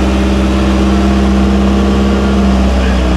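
A 1968 Triumph TR250 classic sports car engine idles steadily and loud nearby after being restarted during restoration, a constant low throb with no revving.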